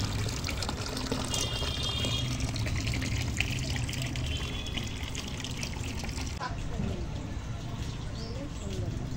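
Whole soaked vegetables being rinsed and dropped back into a bowl of water, with steady trickling and splashing running throughout alongside low background murmur.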